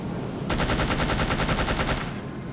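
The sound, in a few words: gunfire from the video game No One Lives Forever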